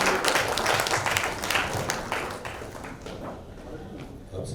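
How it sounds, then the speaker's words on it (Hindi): A crowd at a stage event welcomes performers with applause. Scattered clapping at a moderate distance stays fairly even throughout, with individual claps standing out in the texture. "Let's welcome both the talent with your applause"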